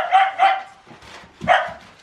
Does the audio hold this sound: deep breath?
no